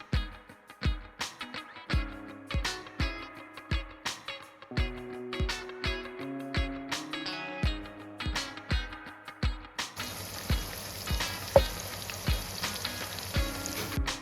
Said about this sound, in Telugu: 1/2 స్పూన్ జీలకర్ర, ఉల్లిపాయ, పచ్చిమిర్చి ముక్కలు వేసుకుని దోరగా వేయించుకుందాం